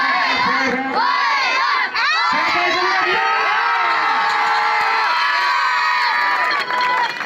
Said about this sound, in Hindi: साहब भाई के लिए तालियां